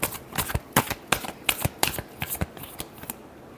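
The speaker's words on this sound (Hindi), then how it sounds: "last shuffle" Tarot cards being shuffled by hand in quick, crisp riffles and flicks, close and clear, a run of sharp papery bursts with short gaps and no talk.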